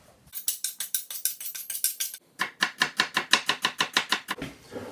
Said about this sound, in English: So let's start by mincing up a shallot.